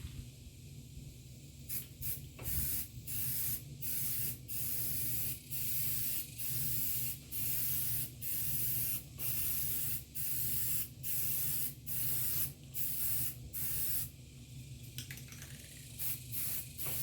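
Rust-Oleum spray paint hissing from an aerosol can onto a 1999 Chevy Suburban, in about a dozen short, even bursts separated by brief pauses, close and fairly loud.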